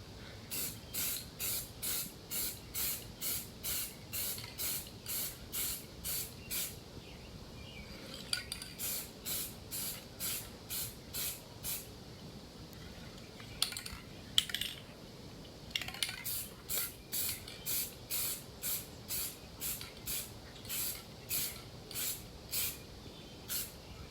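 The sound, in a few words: spray painting door panels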